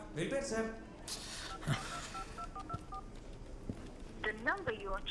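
A telephone keypad being dialed, a quick string of beeping tones under nearby talking voices, followed by a brief chirpy electronic sound.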